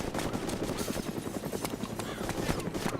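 A helicopter in the Arma 2 DayZ Mod game thrums with a fast, choppy rotor pulse, fairly faint and continuous, mixed with scattered in-game noise and no speech.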